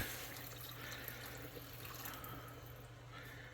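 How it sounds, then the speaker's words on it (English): Water runs steadily into a pot of rice, a continuous splashing pour with a low hum in the background and no voices. "I'm going to add the water"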